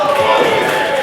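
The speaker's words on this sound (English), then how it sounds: "Getting the approval from the crowd here" Wrestling crowd at a UWA Elite Aggression 2023 show cheering and applauding in approval, a steady, dense wash of many voices filling the arena throughout.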